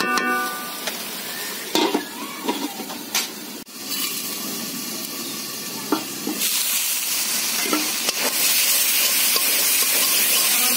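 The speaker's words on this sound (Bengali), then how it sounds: "মসলাটাকে ভালো করে কষিয়ে নিতে হবে।" Spice paste with salt frying for a sarpunti fish curry, a loud continuous sizzle and hiss broken by sharp stirring clacks of a spoon against the pan, close up.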